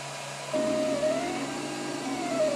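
A 3D printer prints a tripod mount for a Kinect scanner, a continuous close motor hum with a thin whining tone that shifts pitch as the print head moves, steady and alone.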